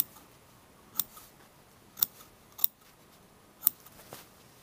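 Scissors snip into the fabric seam allowance of a blouse collar, four or five sharp, separate clicks spaced about a second apart against a quiet background, close by, with no speech.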